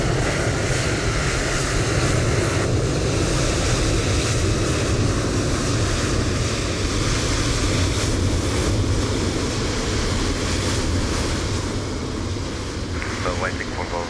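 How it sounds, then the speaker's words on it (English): Loud, steady airliner engine roar from planes passing near a busy gate at Frankfurt in Microsoft Flight Simulator, a constant broadband rumble throughout with little change. "So waiting for those loud planes to pass."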